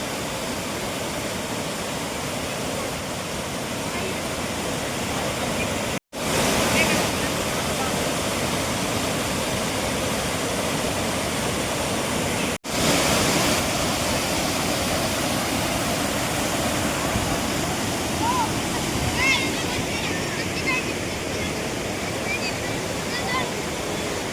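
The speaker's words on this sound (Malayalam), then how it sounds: "വെള്ളം ഒഴുകി വരുന്ന വരവുണ്ടോ" Rain-swollen river water rushes and roars steadily close by in Idukki, a dense continuous wash broken by two brief cuts, with a voice talking faintly beneath it.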